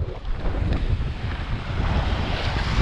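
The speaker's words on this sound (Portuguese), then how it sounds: "Ventando muito, muito, muito, muito." Strong wind roars and gusts against the microphone on a remote road in Bahia, Brazil, a heavy low rumble that swells and dips, with no voices.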